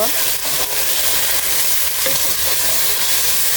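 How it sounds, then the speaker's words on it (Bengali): Whole spices with ground ginger and garlic paste sauté in a pan for fish khichuri, giving a loud, steady, close sizzle with faint stirring scrapes throughout and no talk. "আমি আদা রসুন বেটে নিয়েছিলাম সেগুলো দিয়ে দিলাম পুরোটা সবগুলো উপকরণগুলো আমি ভালোভাবে কষে নিব"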